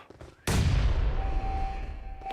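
A frag grenade blasts in the PUBG Mobile Metro Royale mode: one sudden, loud, close explosion that booms and rumbles away, with faint game noise before it.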